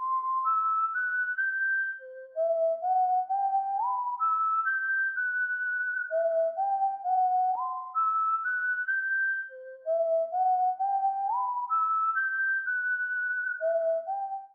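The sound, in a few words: synthesized whistle melody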